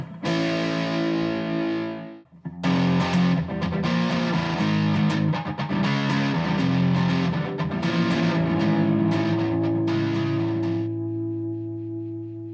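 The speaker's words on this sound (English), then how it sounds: "We have a rat type distortion we could try. Mini rat, which is the same thing as a normal rat." Electric guitar, a Telecaster-style build, through a Rat-type distortion pedal, with heavy, gritty distortion, plays sustained chords and a busy run of notes before ringing out.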